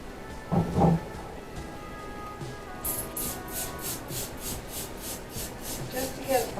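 A dirty vintage thrifted mirror frame scrubbed clean with Dawn heavy duty degreaser: soft close rubbing strokes, then a rhythmic run of brisk scrubbing passes in the second half, with a couple of brief knocks early on.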